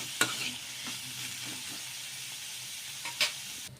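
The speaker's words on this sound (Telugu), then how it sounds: "ఇలా బాగా కొద్దిగా ఈ పచ్చి కొబ్బరి ముక్కలు కొంచెం కలర్ చేంజ్ అయ్యే వరకు ఫ్రై చేసేసుకోవాలి ఈ నెయ్యిలోనే" Fresh coconut pieces frying in ghee give a soft, steady sizzle close by, with a couple of brief louder crackles and scrapes from stirring and no talking.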